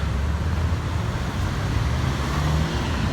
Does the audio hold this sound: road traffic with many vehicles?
yes